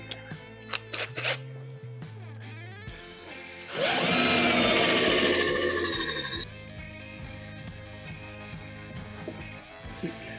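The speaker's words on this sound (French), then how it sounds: "Je perce ça à la main." A part drilled by hand with a power drill in a workshop: a few short taps and clicks, then a loud, sustained whirring burst lasting a couple of seconds, followed by lighter mechanical clatter and small knocks.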